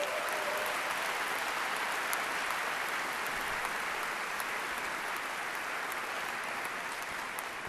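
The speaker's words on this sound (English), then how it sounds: "Let's have a round of applause for them." Sustained applause from a large crowd at a university graduation ceremony, a distant, even roar of clapping that fills the space at moderate volume.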